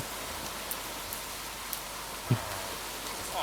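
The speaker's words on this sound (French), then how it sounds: "Voilà, il pleut." Steady rain falling in a Minecraft game world, a soft continuous hiss with a few faint clicks and one brief low thump, no voices.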